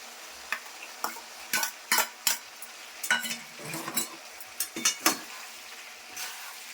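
Ground chili-garlic and cumin-ginger pastes fry in oil for a small-fish curry, as a spoon stirs in irregular bursts of scraping and clatter over a low sizzle, close up.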